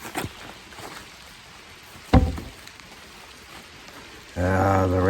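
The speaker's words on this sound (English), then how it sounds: "The rain's seeming like it's getting heavier." Heavy rain falls steadily outdoors, a continuous hiss with a few sharper knocks and thuds from handling gear, followed near the end by a loud engine-like hum.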